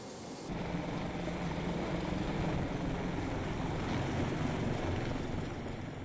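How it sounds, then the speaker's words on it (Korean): A rescue helicopter holds a hover, producing a dense, steady broadband roar of rotor and engine wash that stays loud and unbroken throughout. "구조대원과 구조대상이 탑승하는 동안 헬기는 제자리 비행을 계속한다."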